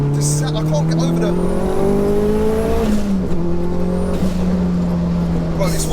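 A 630bhp Mitsubishi Evo 2 accelerates hard under heavy turbo boost, its engine note climbing loud and steady through rising revs and gear changes, heard continuously from close range with voices in the cabin.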